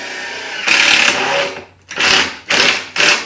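A power driver drives screws until snug, probably into a shuttle bus RV conversion: a loud, close whirring burst of motor noise lasting about a second, then two shorter bursts in quick succession, with no talking.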